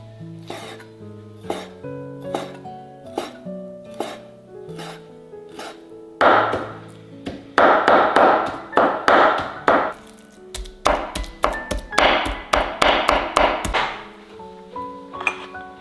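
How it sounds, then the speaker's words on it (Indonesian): Cleaned shrimp is chopped with a knife on a board, first in slow spaced strokes, then in rapid rhythmic bursts of sharp chops, all over light background music. "sekarang kita sebagian mau dicincang kasar, sebagian mau dicincang halus ya"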